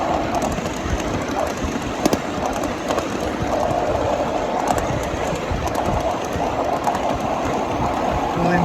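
A 7.5-inch gauge ridable train climbs a grade on a mainline track, with a steady rumble and rhythmic rail clicks, close and continuous, and faint bird calls in the background.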